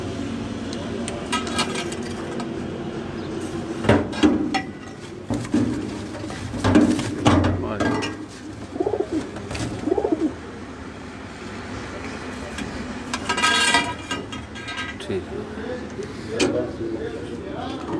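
Breeder pigeons kept in cages coo in soft, repeated bursts, fairly close, under steady talking from a man nearby, with some rustling and background noise.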